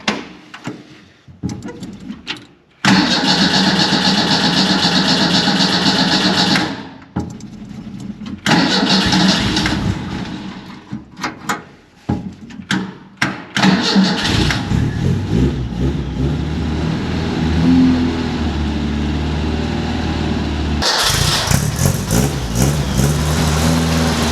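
Old vehicle engines, including a 460 Ford Camper Special, a Model A coupe and a Studebaker truck, being cold started: repeated loud cranking bursts separated by pauses, then the engine catches and settles into a steady running idle.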